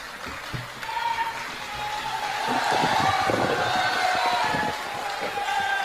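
A large crowd at a Hindi kavi sammelan poetry gathering applauds and cheers, swelling into a loud, steady roar that holds for several seconds before easing slightly.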